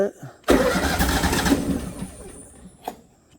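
A welder's gasoline engine cranks and catches at once, roaring loudly and steadily before settling back toward a quieter idle, with a brief knock near the end.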